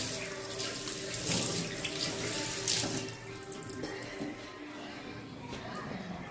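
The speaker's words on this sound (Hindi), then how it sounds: "ये नल है और ये मैं पानी ली हूँ" Water running steadily from a bathroom tap into a sink, a broad continuous hiss and splash that eases slightly in the second half, close by with no voices over it.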